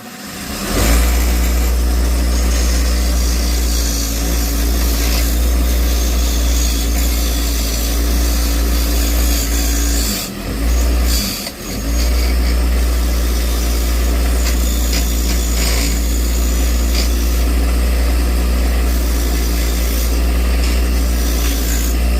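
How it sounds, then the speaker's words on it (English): A wire brush wheel on a bench grinder scours corrosion from Hayward Powerflo Matrix pool pump parts, giving a loud, steady motor whine and scrubbing roar that runs continuously, with brief dips around the middle. "You guys finally have a use for this brush wheel on my bench grinder, so I'm gonna do this thing up on here."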